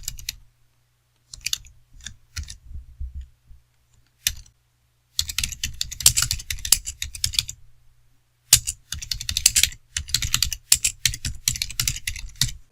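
Quick bursts of typing on a computer keyboard while writing JavaScript code, the keys clicking in rapid clusters separated by short pauses, close and clear with no talking.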